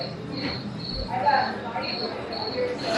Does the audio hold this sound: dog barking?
no